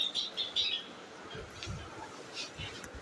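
Pet breeder birds give a few quick, faint chirps early on, then only a low, quiet background remains.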